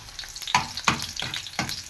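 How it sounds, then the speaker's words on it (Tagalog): Garlic sizzles loudly in a pan as it browns, with several crackling bursts of spatter and stirring in quick succession over a continuous frying hiss. "Lagay na natin ang bawang. Pa-brown-brownin natin."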